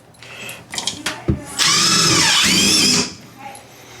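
A power drill drives a screw through the back plate of a bathroom vanity into a wall stud during installation, with a few short bursts of clicking and handling noise leading into a loud, steady whir lasting over a second before stopping.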